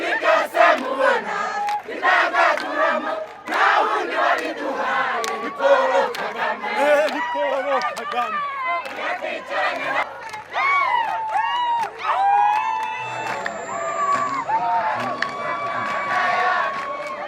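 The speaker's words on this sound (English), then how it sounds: "crowds of locals were singing and dancing" A crowd of locals sings, chants and cheers together at an open-air gorilla naming ceremony in Rwanda, with many voices whooping and shouting close by, continuous and lively throughout.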